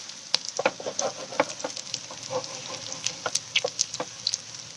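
Aloo matar tikki patties sizzle in hot ghee, a soft continuous frying hiss broken by frequent sharp crackles and pops, close and fairly quiet with no talking.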